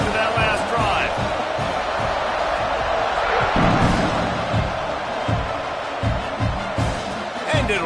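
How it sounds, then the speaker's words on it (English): Stadium crowd at a UNC versus OU college football game, a dense, sustained roar with rising swells and scattered thuds, heard loud and continuous throughout. "this crowd is feeling themselves after that last drive"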